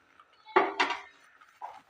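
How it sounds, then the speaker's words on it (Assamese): Metal utensils clink and scrape against a cooking pot as fried semolina is tipped in for a Bihu sweet barfi, two quick knocks followed by a softer one, close and fairly quiet. "এতিয়া ভাজি থৈ দিয়া চুজিখিনি মই এইদৰে দি দিছোঁ।"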